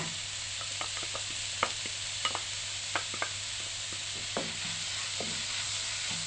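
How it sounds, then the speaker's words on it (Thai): Chopped shallots stir-fry in a pan with a soft, steady sizzle and many quick, light spatula taps and scrapes scattered throughout, fairly quiet and close, with no voices. "ผัดให้หอมแดงสุกดีค่ะ"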